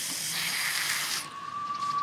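A loud continuous hiss of foam spray being dispensed onto an animal's skin for about a second, then it cuts off, leaving a faint high tone.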